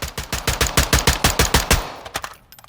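An LSA TX-15 DML designated marksman light rifle fires in Call of Duty Modern Warfare II: a rapid, loud string of about a dozen evenly spaced shots, then a few more scattered reports fading into quiet.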